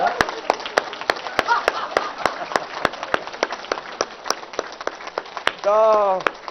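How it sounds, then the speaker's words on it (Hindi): Rhythmic group clapping at a yoga and naturopathy camp session in Haridwar, sharp evenly spaced claps running throughout, with a brief laugh or voice near the end. "और एक बार जोर से ताली भी बजा लो थोड़ा।"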